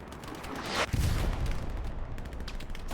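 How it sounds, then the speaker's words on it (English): Artillery fire and explosions in the Hell Let Loose video game, with a sharp heavy blast near the middle followed by rumbling and scattered gunfire cracks in a continuous loud battle din. "It's artillery, it's explosions, it's shenanigans of the wildest variety."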